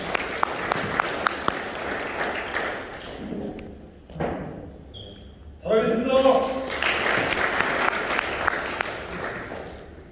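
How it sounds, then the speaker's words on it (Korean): An audience at a union election rally for a Seoul Milk Ansan factory chairman candidate claps steadily, with scattered thumps and murmuring voices. The applause dips briefly, then swells again loudly. "뜨거운 박수로 맞이해 주시길 바랍니다."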